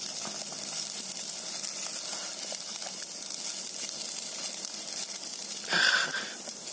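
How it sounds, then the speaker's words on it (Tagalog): A pot of cooking liquid simmers with a steady bubbling hiss, then a brief louder splash and sizzle near the end as fish drops into the liquid. "Kumukulo na po yung ating saingan."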